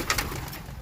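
Racing pigeons being readied for a derby give soft cooing near their loft amid steady background noise, with a couple of brief louder notes at the start.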